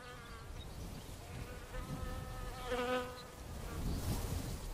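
Wasps buzzing over summer fields near the salty sea air of Fécamp, a steady insect drone with wavering harmonic whine that swells briefly, close and continuous with no voices.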